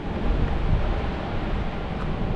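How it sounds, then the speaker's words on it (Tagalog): Strong wind roars across an outdoor microphone, a dense, loud, steady rush of gusting noise with low rumbling buffets throughout. "Lakas ng hangin."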